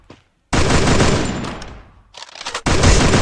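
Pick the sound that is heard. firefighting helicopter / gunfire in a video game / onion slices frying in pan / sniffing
gunfire in a video game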